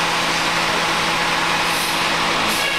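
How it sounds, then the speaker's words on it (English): A bus pulls away from a stop just ahead: steady loud engine roar and road rumble from a vehicle interior, with a brief hiss of air near the end, and no voices. "Looks like the bus in front of me is just pulling away"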